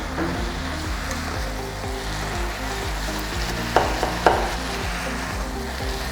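Red and green peppers stirred in a sizzling pan, a steady frying hiss with rhythmic scraping strokes and two sharp knocks against the pan near the end.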